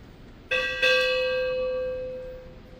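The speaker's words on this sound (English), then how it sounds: "strike 2 bells" A ship's bell rings twice at a U.S. Navy retirement ceremony, two quick clear strikes close together followed by a long, bright ringing decay in a quiet room.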